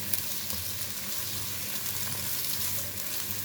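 Onions frying in oil in a karahi, a steady close crackling sizzle with no talk over it.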